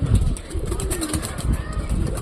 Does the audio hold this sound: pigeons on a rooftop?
yes